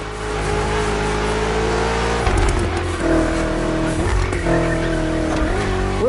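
BMW M CS cars driving in The Crew Motorfest racing game, a steady loud engine drone with gear shifts and revving changes, tires squealing under the motor as it accelerates.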